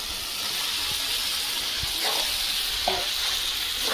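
Soybean chunks, potato and pumpkin sizzle steadily in hot spiced oil for a vegetarian pumpkin curry, with a constant bright hiss and a few soft stirring scrapes and clicks close by, no voices.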